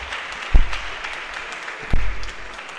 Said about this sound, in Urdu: یہ اس بات پہ تالیاں کافی بجی ہیں